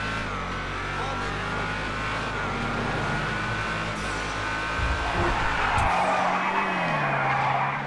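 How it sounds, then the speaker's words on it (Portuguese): A powerful V8 engine in the game GTA 5 Online roars and revs hard, loud and sustained, with turbo whine, exhaust pops, tires squealing and the pitch rising and shifting as it accelerates. "vocês viram aqui que o som do V8, monstro, barulho aqui da, da turbina e o pipoco no escape"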